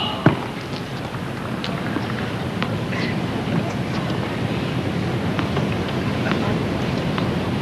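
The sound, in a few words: strong wind gusts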